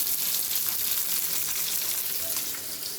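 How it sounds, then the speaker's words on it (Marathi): Fish sizzles steadily in a hot pan as it fries, a dense, even crackle heard close up and alone with no talk. "आता हे मस्त पैकी भाजले तर फ्राय झाले"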